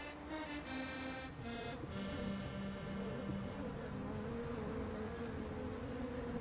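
Honeybees buzz at hives on the rooftop of the Paris Opera, a steady, continuous drone that holds at an even level throughout.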